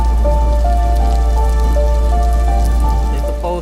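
Heavy monsoon rain pours steadily onto a crowded protesters' camp at Azad Maidan in Mumbai, a dense, continuous hiss of drops on surfaces throughout, with faint tonal hums in the background and no talking.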